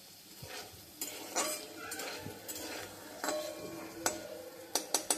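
Thick round slices of sweet potato fry in a pan. A faint sizzle runs under scattered spatula scrapes and light metallic taps, all fairly quiet and close.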